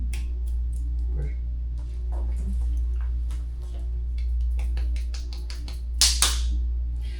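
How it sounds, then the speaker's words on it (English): Tapping and clapping beside a patient's head during a fibromyalgia pain relief session, a series of light sharp taps and claps at irregular intervals over a steady low hum, with a louder pair of claps near the end. "why is he tapping and clapping next to her parietal here?"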